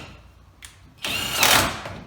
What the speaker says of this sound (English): Alternatively, you've got your socket wrench,